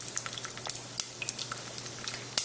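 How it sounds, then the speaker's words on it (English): Mustard seeds crackle in hot oil in a pot, scattered close pops and tiny spits over a low sizzle, with no talk. "from the first pop of the mustard seed, I'm going to add 1 tablespoon of turmeric"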